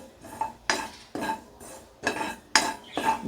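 Sesame and poppy seeds are roasted and stirred in a pan for a lotus-seed sweet, giving about six sharp, rhythmic scrapes and clinks of the utensil against the metal, close and with no talk.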